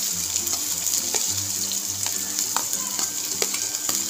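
Onion frying in a pan until golden brown for cashew curry fills the air with a loud, continuous sizzle, with occasional stirring clicks and a low steady hum underneath.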